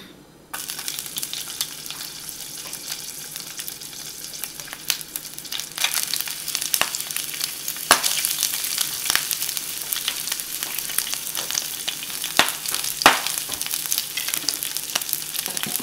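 Crepe batter frying in oil in a hot skillet, a loud continuous sizzle and crackle with sharp spits and pops throughout, close up with no talking.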